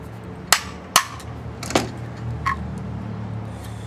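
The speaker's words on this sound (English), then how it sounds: "it hit the top with a hammer to get the bottom to come out" Three sharp metallic hammer strikes on a stripped ceiling fan part, spaced about half a second apart, followed by fainter clinks against a low background hum.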